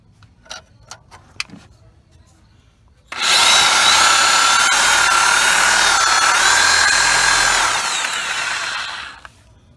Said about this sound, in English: So you're using the Sawzall to cut the rubber part